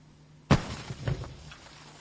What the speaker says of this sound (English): This is the sound of a shack being exploded.